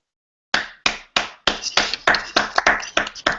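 Students give a round of applause in a classroom: a few sharp, separate claps at first, then quickly thickening into brisk, overlapping clapping from a small group, close and fairly loud.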